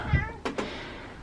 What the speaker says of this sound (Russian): Несчастный кот с дачи привезли.